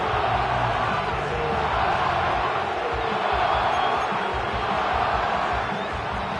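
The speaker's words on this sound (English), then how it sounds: "The crowd cranking it up another notch before third and long" A football stadium crowd roars continuously in a Giants game before third and long, a dense, loud wall of cheering and whooping that swells slightly and never lets up.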